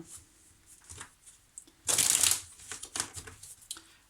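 Tarot cards being handled, shuffled and drawn: a loud, dense papery riffle burst in the middle, surrounded by softer, scattered card flicks and slides close by, with no talking.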